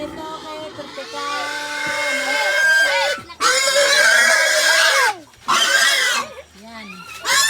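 Pigs grunt and squeal loudly near the camera ahead of feeding. Several bursts of squealing are separated by short pauses, and voices can be heard faintly in the background.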